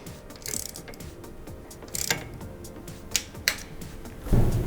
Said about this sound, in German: Zuletzt ziehen wir 4 Schrauben an der Vorderseite des Gepäckträgers ebenfalls mit 5 Newtonmetern an